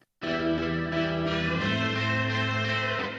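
A thick, distorted electric guitar chord rings out with layered, chorus-like effects, sustained loudly after a brief silence.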